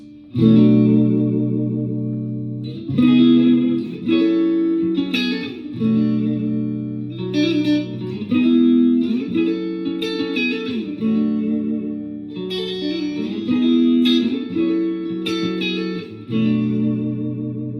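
Electric guitar plays a looping 2-3-6 soul chord progression with a wavering sound bent by the vibrato arm, repeated strums about every couple of seconds, heavy with effects and reverb.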